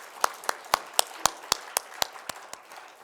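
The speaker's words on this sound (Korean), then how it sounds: "다시 한번 영광의 박수 올려드리겠습니다" A church congregation claps in a steady, evenly spaced rhythm, about a dozen sharp unison claps over a few seconds, fairly quiet in a reverberant worship hall.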